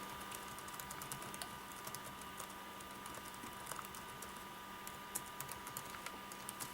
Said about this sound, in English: I can quickly type what I want to say.